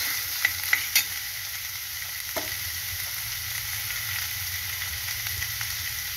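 Small boiled potatoes drop into a hot pan and fry, a few sharp clinks at the start giving way to a steady close sizzle with light stirring, no talk.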